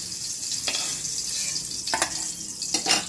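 Prawns fry in a small amount of oil in a pan, a steady bright sizzle broken by a few scraping stirs of a spatula.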